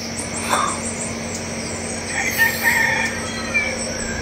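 Roosters and chickens crowing in an area where many loose chickens roam; faint, distant crows rise over a steady background hiss and low hum.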